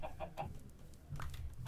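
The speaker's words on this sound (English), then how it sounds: "Chickens! We've got some chickens." Minecraft chickens clucking in short, soft bursts, several quick clucks early and another pair near the end, faint and close, with no talking.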